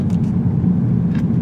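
An Audi A5 Sportback with all-wheel drive and its suspension in dynamic mode takes a tight corner in a turning circle, heard from the cabin as a steady low rumble of engine and road noise.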